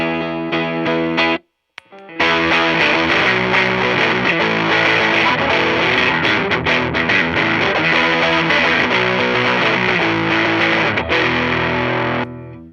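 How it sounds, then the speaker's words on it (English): A heavily distorted electric guitar through a high-gain distortion pedal plays thick, sustained power chords, loud and saturated, with a brief pause near the start before roaring on. "it's my higher gain distortion pedal"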